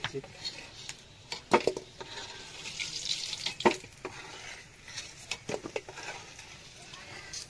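Potatoes frying in very hot oil give a steady, soft sizzle, with a spatula scraping and clinking against the pan now and then and a voice speaking at times.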